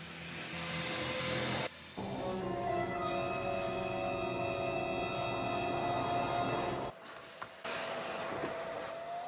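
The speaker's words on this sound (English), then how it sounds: "I ended up vacuuming up something else right into the dust extractor and had to empty it again." A workshop dust extractor vacuums up debris, a loud steady motor roar with a whining tone that runs for several seconds, then cuts out and restarts briefly.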